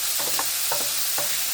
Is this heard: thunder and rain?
no